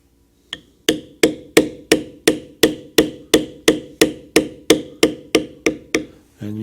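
A hammer strikes a beveling tool on leather during Celtic knot embossing, landing about fifteen sharp, evenly spaced taps in a steady rhythm, each with a quick decay, close and loud with no talk.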